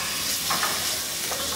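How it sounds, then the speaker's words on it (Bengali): Chicken pieces frying in a small amount of hot oil in a frying pan, giving a steady close sizzle with faint stirring, no voices. "এর মধ্যে মুরগিগুলোকে দিয়ে আমি একটু ভেজে নিব।"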